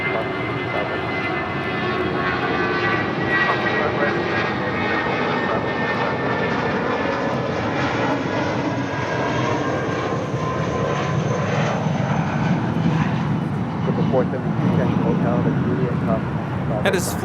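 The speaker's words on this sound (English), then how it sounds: "That is Flight 1 headed back to Monterrey" Airliner Flight 1 departing Los Angeles airport for Monterrey: continuous jet engine roar with a whining tonal layer, a loud and steady rumble that builds slightly toward the end, with people talking over it.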